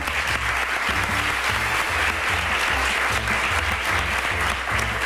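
Loud, steady applause from a TV studio audience filling the whole stretch, dense and sustained with no speech over it.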